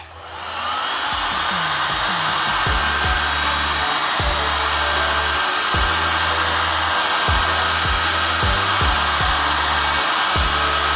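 A heat gun blows a steady, loud whir while warming a skateboard's rail guard, with faint clicks and taps from handling throughout.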